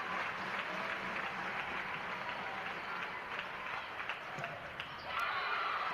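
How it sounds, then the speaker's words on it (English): Spectators at a Cincinnati versus Wichita State women's volleyball match keep up a sustained roar at set point, a dense wash of arena noise that swells slightly near the end. "And you hear the crowd getting into it."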